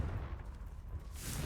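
An explosion spell cast in the Hogwarts Legacy video game sounds as a brief, heavy, rumbling boom with a low roar and a rising hiss at the end, loud and without talk.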